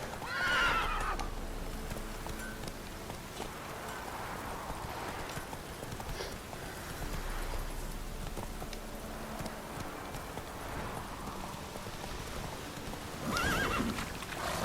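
Roach the horse in The Witcher 3, out in Velen's no man's land, gives two whinnies, one at the start and one near the end, with soft clip-clopping hooves and quiet ambience between, fairly faint overall.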